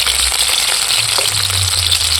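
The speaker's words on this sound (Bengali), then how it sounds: "দেখো পেঁয়াজগুলো কতটা ভাজা ভাজা হয়ে গেছে" Steady sizzling and crackling of onions frying in a pan, a continuous bright hiss with a low hum underneath.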